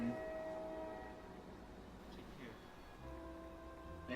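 A train with its horn sounding at Henry Ford, sustained horn tones sitting over a rumbling rolling-stock drone, the horn fading midway then returning strongly near the end, moderately distant.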